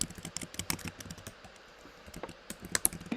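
Rapid typing on a computer keyboard during a climate council subcommittee meeting, a steady patter of quiet, close key clicks with brief pauses and no talking.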